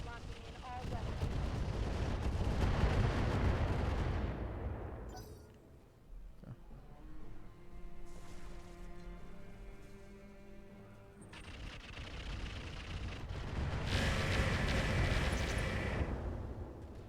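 Mech weapons firing in BattleTech with the RogueTech mod: heavy booming volleys of explosive gunfire in sustained loud bursts, a quieter stretch in the middle with a sharp single crack, then another long loud barrage.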